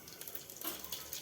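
Cumin seeds sizzle in hot homemade ghee with a faint, steady crackling hiss and small pops. It is quiet and close, with no talking.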